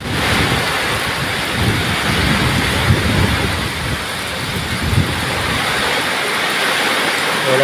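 Heavy typhoon rain pours without letup in Camarines Sur, a dense, loud, continuous roar with gusting wind and low rumbling underneath.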